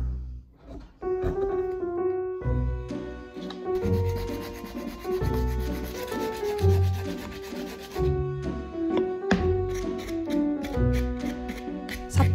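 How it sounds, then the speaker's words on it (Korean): Steady back-and-forth rasping of sandpaper finishing a small carved wooden piece, close and continuous, with music playing throughout and no speech. "사포질로 마감을 해주고"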